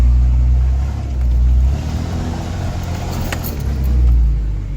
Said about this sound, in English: Think I can climb that stone hill in 2-wheel drive?